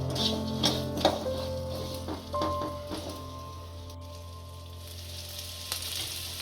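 Gunda (glue berries) fry in hot oil with a steady, close sizzle and crackle throughout, sprinkled with a few louder pops and spatters near the start.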